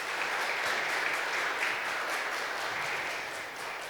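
Audience applause at a tech conference session, a continuous even wash of many people clapping at moderate volume, steady throughout and fading a little near the end, with no speech.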